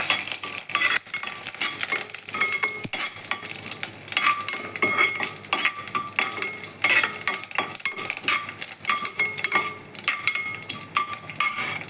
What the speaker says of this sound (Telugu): ఈ పోపు అంతా బాగా ఫ్రై అవ్వాలండి.